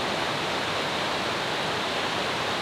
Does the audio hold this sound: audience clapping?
no